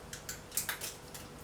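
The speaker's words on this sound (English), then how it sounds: "I'm going to make some slivers of butter." A knife shaves thin slivers from a block of butter on a chopping board, giving several soft, quiet scraping strokes in an irregular rhythm, close and faint.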